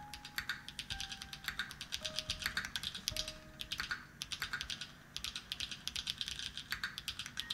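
Rapid, crisp clacking of a custom-built mechanical keyboard being typed on continuously in bursts, close and clear, with no talking.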